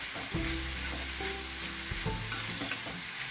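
Anchovies tossed with masala in a hot pan, with steady sizzling and repeated scraping stir strokes, close and moderately quiet.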